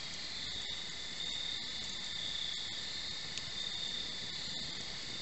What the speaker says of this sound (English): Crickets are up tonight.